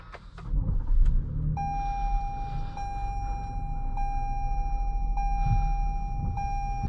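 A 2021 Toyota Highlander XSE AWD engine turns over and settles into a low, steady rumble, while a sustained electronic tone chimes repeatedly over it.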